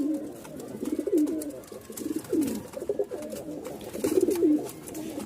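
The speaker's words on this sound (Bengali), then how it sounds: "2 জোড়া কবুতর, মাথা নষ্ট ডাক" Two pairs of pigeons coo in deep, rolling, repeated calls close by, overlapping one another almost continuously and standing alone without talk.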